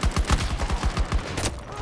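Rapid machine-gun fire in the video game Battlefield 2042, a tight burst of about a dozen sharp, punchy shots in quick, even rhythm, close and fairly loud, with no talking.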